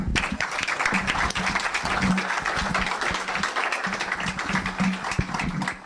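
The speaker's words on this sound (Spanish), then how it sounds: "Un aplauso, por favor." An audience at a university forum on electoral constitutional law claps continuously and fairly evenly for several seconds, a dense wash of overlapping hand claps with no one speaking over it.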